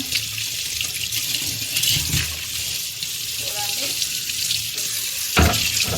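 Water runs steadily from a tap with splashing as something is washed, and a person speaks briefly near the end.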